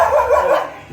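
A dog lets out a short, close bark or yelp at New Year's firecrackers, fairly loud, trailing off within a second.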